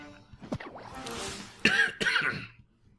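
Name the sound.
coughing and throat clearing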